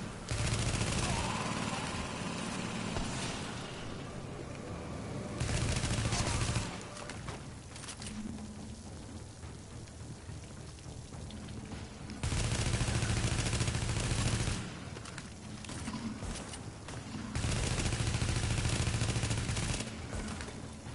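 Bursts of automatic gunfire from The Division, in a Broadway Emporium mission, with loud clustered volleys around 0–7 s, 12–15 s and 17–21 s separated by quieter stretches of distant shooting and game ambience.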